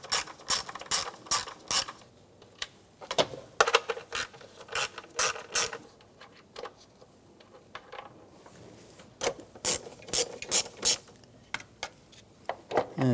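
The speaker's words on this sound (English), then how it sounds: "We're going to use an 8mm socket." An 8mm socket on a ratchet loosens valve cover bolts on a 2008-2013 BMW 328i xDrive, giving bursts of rapid, close clicking with brief pauses between them.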